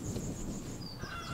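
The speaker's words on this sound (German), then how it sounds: "Hühner!" Chickens cluck and honk in the Horse Tales video game, a dense, close run of fowl calls over a steady ambient game backdrop.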